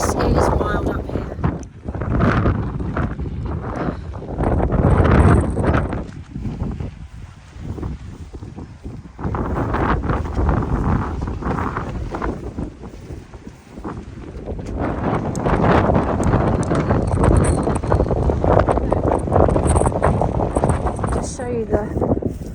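Strong wind buffets the microphone at a hilltop festival campsite during the Glastonbury build-up at Worthy Farm, a loud continuous roar with gusting swells throughout, while people talk over it.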